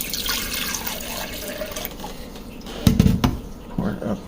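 Clean tap water runs into a container for filling a Mr. Coffee 3-in-1 coffee machine, a splashing trickle with a louder gush near the end, heard close up alone.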